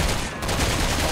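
Machine gun fire during a boss fight in the video game Resident Evil 6, a dense, loud burst of rapid shots that fills the whole moment with little pause.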